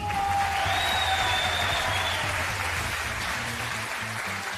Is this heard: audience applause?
yes